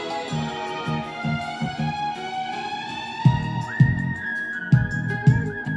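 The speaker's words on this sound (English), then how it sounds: "whistling has always been a really cool thing" A person whistles a melody, a clear sustained tune that slides between notes and rises partway through, heard over a soft backing of rhythmic low thumps.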